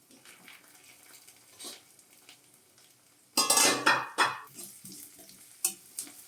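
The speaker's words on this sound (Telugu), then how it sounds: "ఆనియన్ మొత్తము ఫ్రై అయిపోయింది, గోల్డెన్ బ్రౌన్ కలర్లోకి వచ్చింది." Onions frying golden brown in a pan give a quiet sizzle, broken midway by a loud burst of stirring and scraping, then a few lighter spatula scrapes.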